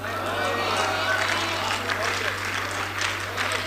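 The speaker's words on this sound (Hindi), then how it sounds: "तालियां बहुत कमजोर थी आपकी," Audience applause at a mushaira and kavi sammelan in Hyderabad: steady, dense clapping from a crowd that fills the whole stretch at an even level over a low electrical hum.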